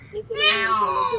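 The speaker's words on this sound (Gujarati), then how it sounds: "એ મોર બોલે છે" A single loud, nasal wailing call of a peacock, rising and drawn out, heard fairly close.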